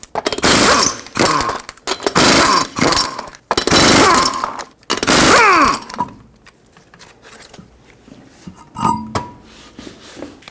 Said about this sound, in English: Use a 21mm socket, remove all 5 lug nuts, and then we can pull the wheel off.